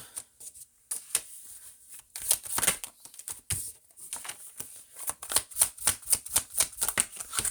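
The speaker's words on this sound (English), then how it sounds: "Let me pull the cards on this one first." Tarot cards are shuffled and pulled by hand, giving quick crisp riffling flutters and a run of sharp, rhythmic snaps and slaps, close and fairly quiet.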